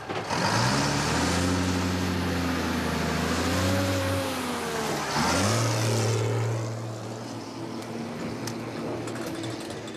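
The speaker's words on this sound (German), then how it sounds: "Er will mit dem einzigen Auto, was noch fährt, abhauen" A car engine revving loudly and pulling away, pitch rising through gear changes before dropping and fading off into the distance, heard alone without voices.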